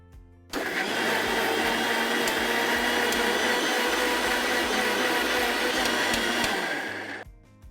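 An electric blender grinds a Jamaican spice mix for chicken wings, starting abruptly and whirring in one loud, steady burst for about seven seconds before cutting off, with no talking.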